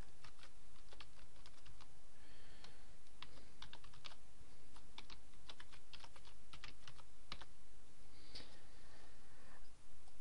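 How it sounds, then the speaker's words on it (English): Rapid bursts of close key clicks as an email address is typed on a computer keyboard, steady and uneven in rhythm with brief pauses, no voices. "And then it needs an email address, so I'll put an email address in."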